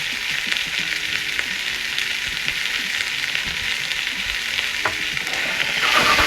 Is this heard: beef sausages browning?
yes